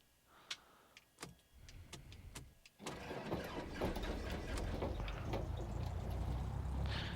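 An aircraft piston engine starting in the X-Plane flight simulator: a few sharp clicks and starter ticks, then the engine catches and settles into a steady, loud running roar that continues to the end.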